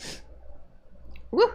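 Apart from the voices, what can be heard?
sneeze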